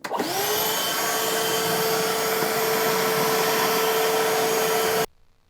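A Ridgid 18V NXT cordless wet/dry shop vacuum roars at steady full power for about five seconds with a constant whine, then cuts off abruptly, leaving only faint background.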